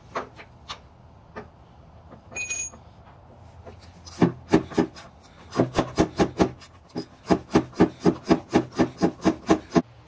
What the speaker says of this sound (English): I'm just gonna go in there with my swivel and just undo them